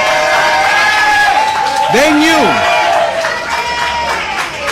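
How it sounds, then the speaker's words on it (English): A loud crowd claps and cheers for Nataki Rhodes at a Black Women's Pay Equity Day celebration with Chicago's mayor, sustained applause and whoops with voices rising over it throughout. "give it one more big round of applause for Nataki Rhodes"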